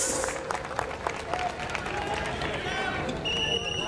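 Applause from a crowd, a dense patter of clapping that continues throughout, with a voice over a loudspeaker mixed in.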